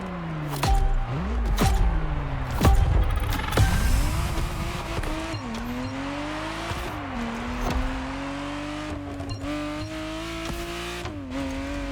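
A Ferrari Testarossa in the racing game The Crew Motorfest revs hard, its engine note climbing and dropping through gear changes with brief tire squeal, loud and close with no talk.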